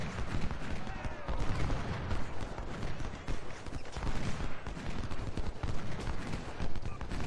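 Continuous musket volley fire from massed infantry in the Civil War strategy game Ultimate General: Civil War, dense crackling gunfire rolling on without pause, with what sounds like galloping horses mixed into the battle noise.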